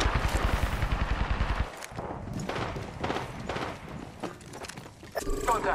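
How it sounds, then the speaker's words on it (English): Rapid bursts of gunfire crack and clatter through a squad-based shooter match, loud and close at first, then thinning into scattered shots with a voice speaking over the fighting. "Shots fired at me."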